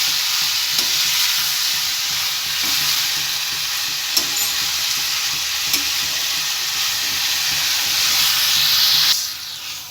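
Tomatoes with turmeric frying in a pan, a steady broad sizzle and hiss running throughout, with occasional soft clicks and scrapes from stirring, fairly close and uninterrupted by voices.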